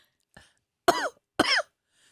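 A person coughs twice in quick succession, two sharp, raspy, close-up bursts preceded by a faint throat sound.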